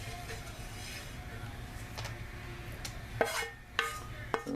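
Cooked acorn squash is swirled around in a pan, giving soft scraping and stirring sounds with a few sharper clinks of a utensil against the pan toward the end, fairly close and quiet.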